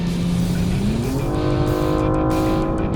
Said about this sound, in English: Let all the GT3s go by, of which there are many.